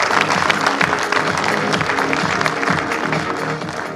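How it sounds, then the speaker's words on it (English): Audience at the Global Tech Summit in Goa applauding during a stage memento presentation, a dense, steady clapping that fills the whole stretch at close range. "Let's have a round of applause, ladies and gentlemen."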